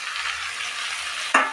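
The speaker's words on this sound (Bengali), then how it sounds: "ভালো করে একটু নাড়িয়ে নিয়ে কষিয়ে তারপরে টমেটো দিয়ে দেবো" Potatoes already fried red and freshly added tomatoes sauté in a pan, giving a steady soft sizzle and stirring rustle that ends in a sharp clack of the spatula against the pan.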